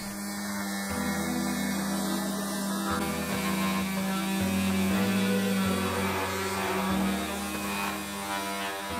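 Fieldmann electric mouse sander running unloaded, a steady close electric motor drone with strong humming tones that shift slightly in pitch, tested on the edges of a backgammon board.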